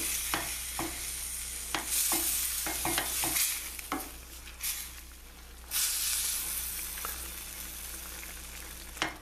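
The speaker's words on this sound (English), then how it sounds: "we'll just let this simmer here for a few minutes" Veal chops simmering in a thickening Marsala sauce over a lowered flame, giving a soft continuous hiss and bubble with a low hum underneath and occasional spoon scrapes, two louder steamy surges.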